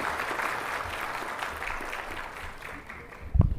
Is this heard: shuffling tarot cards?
no